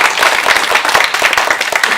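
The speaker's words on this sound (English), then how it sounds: "I would like another round of applause" Audience applause at a business seminar in Bedminster, a dense, steady clatter of many hands clapping for two seconds with no voices over it.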